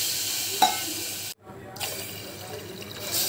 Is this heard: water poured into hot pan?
yes